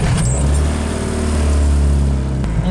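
A turbocharged Honda Civic idles steadily while warming up, a close, loud and even low engine hum that holds for the whole stretch with no speech.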